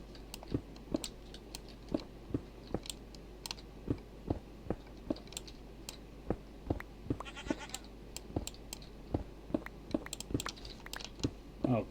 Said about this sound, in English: I hear the goat.